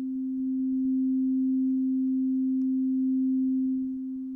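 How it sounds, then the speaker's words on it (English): Subtractor synthesizer tone through a low-pass filter as its resonance is turned up, a steady, pure sustained note holding a single pitch for several seconds at moderate level, with no talking. "As we increase the resonance"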